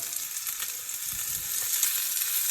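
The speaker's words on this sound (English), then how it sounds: "And then I'm going to put the cumin seeds in." Cumin seeds hiss and crackle in hot oil for bhindi masala, an okra curry, a steady close sizzle with small popping bursts throughout.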